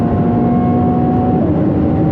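Ferrari engine on the Autobahn with the throttle released, a steady loud broadband roar and low drone of engine and road noise at speed with a faint tonal hum, continuous and unbroken.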